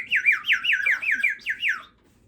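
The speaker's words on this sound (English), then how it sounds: "I hear some birds." A bird chirps close by in a rapid run of about eight looping, whistled notes, bright and clear, then falls silent.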